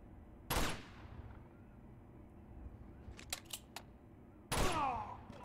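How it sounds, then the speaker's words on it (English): Two loud, sharp gunshot blasts from Uncharted 2: Among Thieves, set about four seconds apart, each with a long decaying ring, and a few faint clicks between them over a low background hum. "Let's try and shoot him."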